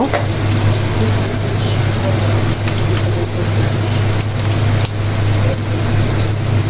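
Taro stolons and shrimp fry in a pan with a constant, loud sizzling hiss that never lets up.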